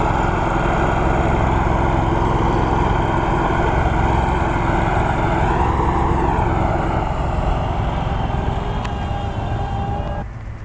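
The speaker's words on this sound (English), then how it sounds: "he's over here mowing, vertical mowing right now" A vertical mowing machine works a golf green, its steady close engine drone holding for about ten seconds with a slight swell midway before easing off at the end.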